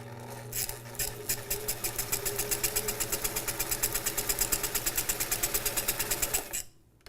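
A sewing machine fitted with a Johnson ruffling attachment starts up and runs at a fast, even mechanical clatter, rapid regular ticks and a whirring hum, close and steady for several seconds before stopping.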